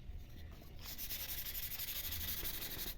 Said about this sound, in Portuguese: agora nós vamos dar uma lixada, vamos dar uma uniformizada